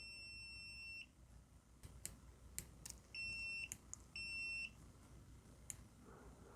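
A KAIWEETS KM200s multimeter in continuity mode gives several steady high-pitched beeps, some brief and some lasting about half a second, close by over a faint background hiss with a few clicks between them.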